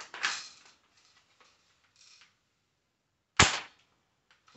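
An airsoft gun fires at a BB trap target: two sharp, close snaps with a short rattling tail, about three seconds apart, with faint clicks and handling noise between them.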